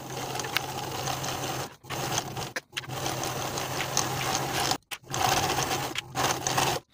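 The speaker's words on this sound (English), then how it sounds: "Sew both of the side seams from the top to the bottom of each leg with a 5/8 inch seam allowance" A sewing machine stitches the side seams of high-waisted trousers with a steady close mechanical whir. The run stops briefly several times and then starts again.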